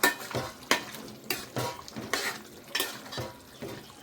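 A thick goat fat curry with garam masala is stirred in a pan: rhythmic scraping strokes roughly every half second over a soft sizzle, close by, with no talking.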